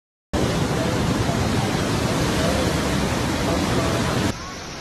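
Floodwater of a swollen Himachal river roars in a loud, continuous broadband rush that holds steady for several seconds before dropping abruptly to a quieter wash.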